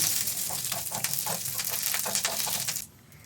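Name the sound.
garlic, chillies and curry leaves sizzling in ghee tadka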